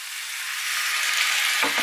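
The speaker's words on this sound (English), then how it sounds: "you'll hear it sizzle as it hits the pan" Loud steady sizzling hiss of about a cup of water hitting a hot stir-fry pan of pork and vegetables, close up, with a brief scraping clatter at the end.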